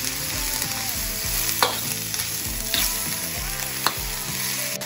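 Chopped onions and bell pepper sizzle steadily in a hot pan while being stirred, with repeated scraping strokes and soft clatter for an Argentine salteña empanada filling.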